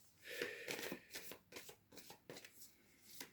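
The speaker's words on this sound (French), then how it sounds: "Je vais retirer quelques cartes." Oracle cards being shuffled and drawn by hand, a run of soft papery riffles and slaps in quick irregular bursts, close and fairly quiet with no talk over them.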